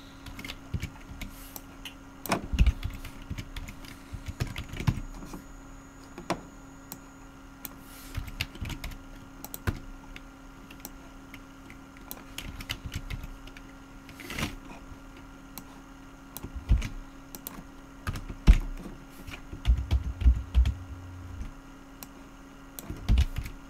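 Typing on a computer keyboard goes on in irregular bursts of close, crisp key clicks with short pauses, heard alone in a quiet room.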